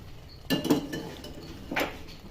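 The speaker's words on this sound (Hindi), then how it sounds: "अब देखिए हम इसमें जो है बॉईल किए हुए आलू डाल देंगे" Boiled potatoes tipped into a pan of keema land with a few quick clinks and knocks of metal, a short clatter near the start and another a second later, close and fairly soft.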